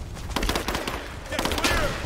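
Rapid gunfire from the video game Rise of the Tomb Raider, a quick run of sharp shots over about two seconds, loud and close, mixed with game effects and background ambience.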